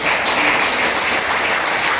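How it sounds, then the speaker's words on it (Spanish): A church congregation applauds during a sermon, with dense, even clapping filling the short moment. "Denle otro aplauso al Señor."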